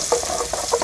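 Garlic sizzles and crackles in hot oil in a pan, a steady close frying hiss with small popping bursts.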